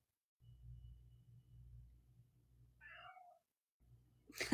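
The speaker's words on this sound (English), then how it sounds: "Your cat answered. That's my cat, folks." Domestic cat meowing indoors, one short faint two-part meow rising then falling, heard over a quiet low background hum.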